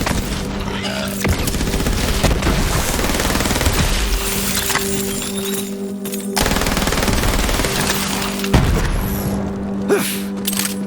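Heavy automatic gunfire in Borderlands 3, sustained loud bursts with booming impacts and brief pauses around the one- and nine-second marks, layered over game music.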